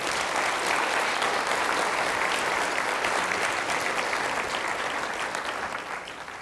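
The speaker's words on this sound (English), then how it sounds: "Can I get one more round of applause for our Speaker, Mayor Houston, and Superintendent Cardona?" Sustained audience applause at a city address, dense steady clapping from a large crowd that holds for several seconds and slowly fades toward the end.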